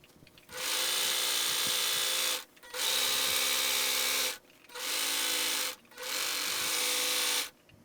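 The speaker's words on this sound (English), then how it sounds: "serge the shell/underlining layers together along every edge" A serger overlocks the edges of layered jumpsuit shell and underlining fabric for a costume, running in three long, steady, loud bursts with brief stops between them.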